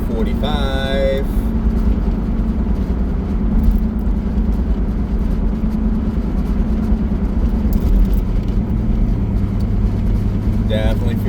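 A car cruises along a road in Bay Saint Louis, Mississippi, with a steady low engine hum and road noise throughout. A person talks over the drive.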